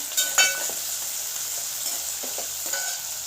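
Curry leaves and vegetables sizzle steadily in hot oil, a continuous crackling fry with a few brief stirring scrapes near the start and later in the clip.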